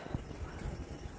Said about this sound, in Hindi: घोड़ा आ रहा है पीछे से।